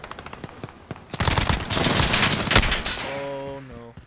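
Call of Duty Modern Warfare gun game gunfire: a few scattered shots, then a loud, sustained burst of rapid automatic fire that trails off into a tonal game sound, with no voices.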